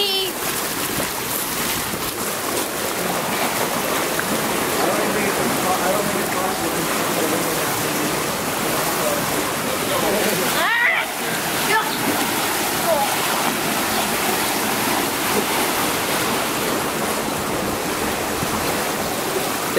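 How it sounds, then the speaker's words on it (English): Outdoor hot tub at a mountain resort, water bubbling and churning in a dense, steady wash with splashy surges, with voices in the background. "It's a really nice hot tub, and we're outside."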